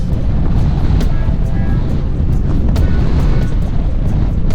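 Strong, swirling south-east wind gusting against cliffs buffets the microphone with heavy, constant low rumble and roar, close and loud throughout, as a cyclist climbs outdoors.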